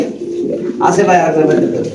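Lahori pigeons coo in a soft, low, rolling call nearby, with a brighter burst of cooing partway through and someone talking over them.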